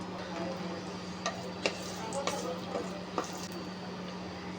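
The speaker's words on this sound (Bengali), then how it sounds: "এবার প্যানে তেল দিয়ে শুকনা মরিচ ভেজে নেব।" Dried red chilies fry in oil in a pan with a quiet, even sizzle and a few light ticks and scrapes from stirring.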